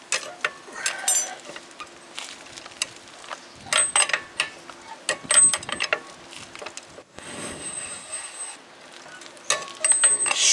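A ratchet on the rear axle nut of a 2011 Toyota Highlander AWD during a wheel bearing replacement, giving bursts of quick clicking with metallic clanks and pauses between them, close and fairly loud.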